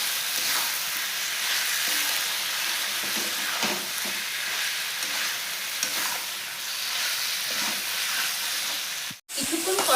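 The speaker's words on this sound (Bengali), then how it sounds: "কিছুক্ষণ কষায় নিচ্ছি" Tomatoes and spices sizzle and fry in a pan for chicken ghugni with matar, a steady close frying hiss with occasional stirring scrapes, briefly cut by a short gap near the end.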